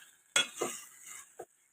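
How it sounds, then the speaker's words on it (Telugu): Rice stirred into chicken biryani in a pot, heard as a few close scraping, clinking strokes of a spoon against the metal, with a sharp first scrape and a shorter one near the end. "రైసు మొత్తం ఈ విధంగా మొత్తం చికెన్లో కలిసే విధంగా కలుపుకొని"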